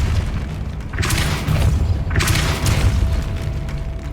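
Depulso spell cast in Hogwarts Legacy, heard as two deep booming blasts about a second apart, each with a bright whooshing burst, over a steady low rumble.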